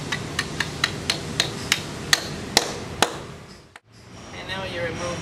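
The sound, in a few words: sledgehammer driving anchor with setting tool into drilled hole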